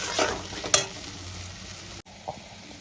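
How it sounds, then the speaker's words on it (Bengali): Spice paste with salt, turmeric and Kashmiri red chilli powder sizzles in a wok for bhetki fish paturi, a soft frying hiss with a couple of sharp scraping stirs and a brief break near the end. "মশলাটা দিয়ে দিয়েছি, সামান্য একটু কষিয়ে নেব।"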